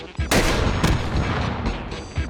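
A rocket launcher fires in the VR shooter H3VR, a loud close blast followed by a second sharp burst and a long rumbling roar that fades slowly.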